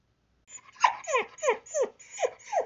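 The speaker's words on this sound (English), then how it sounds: "And then I get yelled at by a dog for not being petted." A dog, likely a border collie, lets out a run of about seven rapid, whiny yelping barks, close and fairly loud, in a demanding rhythm with no talk.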